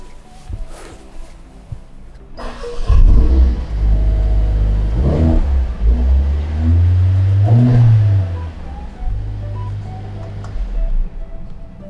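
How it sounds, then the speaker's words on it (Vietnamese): The engine of a Mercedes-AMG GLA 45 4MATIC revs hard and close by, a loud, deep roar that swells and climbs, falls back, then rises again before settling into a steady rumble. There is no talking. "Đó là âm thanh của những cái chiếc xe AMG, những chiếc xe hiệu suất cao của Mercedes các bạn."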